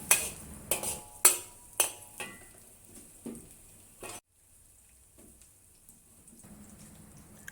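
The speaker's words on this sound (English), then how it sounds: "Add the coarsely chopped garlic and ginger. Saute over low to medium heat until fragrant and turn slightly brown." Chopped garlic and ginger sautéing over low to medium heat in a pan: a soft, steady sizzle broken by several sharp clinks and scrapes of a utensil, then a brief quiet before a faint hiss returns.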